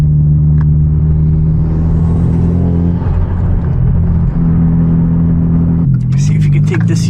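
A Hyundai Genesis Coupe with over 300 hp and a full bolt-on exhaust drones steadily and deeply while cruising at night. The low, even rumble holds throughout and rises briefly in pitch near the end.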